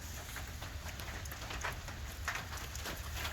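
Steady outdoor rain falls as broadband hiss with scattered patter of drops, continuous and fairly soft, on a small farm where chickens roam and sheep stand out in the wet.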